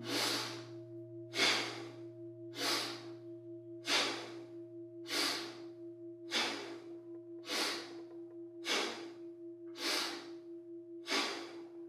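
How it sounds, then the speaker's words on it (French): Rapid, powerful kundalini yoga pranayama breathing, each forceful exhale a sharp rushing burst repeating in an even rhythm roughly every 1.2 seconds, close and clear over a faint steady hum. "on a quelques respirations rapides et puissantes"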